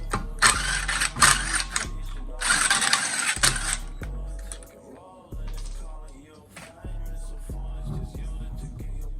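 A ratchet works bolts loose on a 17-year-old Lexus IS300, giving bursts of rapid clicking followed by shorter ratcheting strokes and clunks, close by and with a few pauses.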